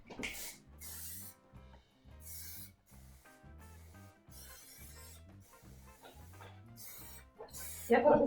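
Short bursts of aerosol spray paint hiss onto an abstract sculpture made of tights and wire, repeating irregularly over steady background music.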